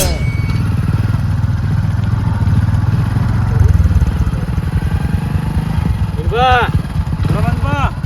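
A motorcycle engine drones steadily at close range while riding on a highway, and brief voices break through over the engine noise near the end.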